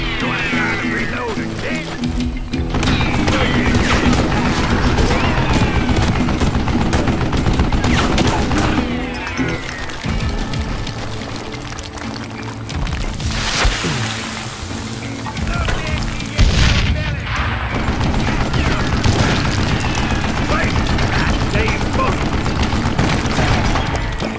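Mounted gun in the Western shooter Call of Juarez Gunslinger firing in long continuous bursts with booms and crashes, dense and loud through most of the stretch.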